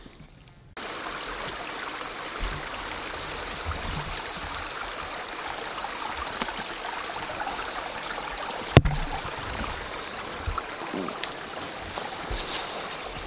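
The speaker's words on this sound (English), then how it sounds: "The only spot where there's running water." A steady rushing wash of flowing water fills the scene outdoors, fairly even in level, with an occasional knock or thump.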